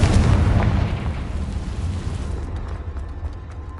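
Confringo spell explosion in a Harry Potter video game, a heavy rumbling blast that starts loud and decays into a sustained low roar with scattered crackles, no voices.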